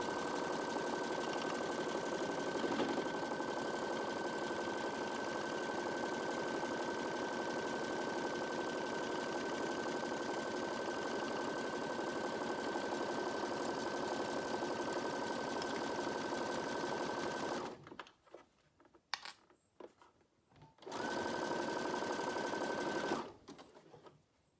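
A sewing machine stitches a quarter-inch fabric seam with a fast, steady mechanical whir, then stops, gives a couple of brief bursts and runs again before halting; quiet room, no talking.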